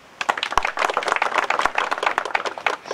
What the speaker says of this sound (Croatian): I za njega jedan aplauz ako može.